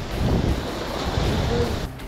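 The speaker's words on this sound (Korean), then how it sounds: "야, 파도가 무슨 여기까지 들어옵니다." Ocean waves washing up onto the shore in Bali, a loud, steady broadband surf roar with wind buffeting the microphone throughout, close and continuous for about two seconds.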